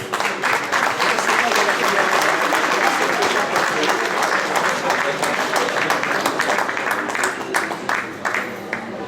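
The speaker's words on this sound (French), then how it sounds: "On peut vous applaudir, madame Rennes," A crowd at a restaurant awards ceremony keeps up steady, loud applause, many hands clapping close together without a break for about nine seconds, with some voices mixed in.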